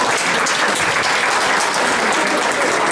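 A crowd at a naval brotherhood gathering claps hard to thank Mikhail Ivanovich: loud, dense, unbroken applause from many hands, filling the whole stretch evenly.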